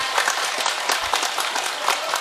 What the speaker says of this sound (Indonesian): Tepuk tangan dulu kangge warga